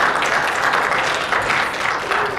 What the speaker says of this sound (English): give me a round of applause for these ladies